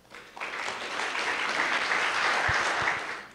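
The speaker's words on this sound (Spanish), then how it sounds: "por favor, un fuerte aplauso para Jonathan López." Audience applause breaks out for a speaker at a web development talk on browser DevTools, a dense, steady clapping that starts abruptly, holds strong for about three seconds, then begins to taper.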